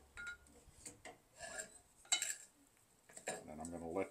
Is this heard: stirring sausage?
yes